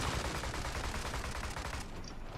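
Rapid shotgun blasts from an upgraded pump-action weapon in the online shooter Zula, dense overlapping bursts filling the whole moment at close range, with no talking.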